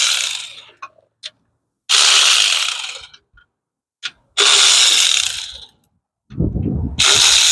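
Ratchet wrench clicking off transmission oil pan bolts in several loud, close bursts of rapid ratcheting, separated by short pauses and a few isolated clicks.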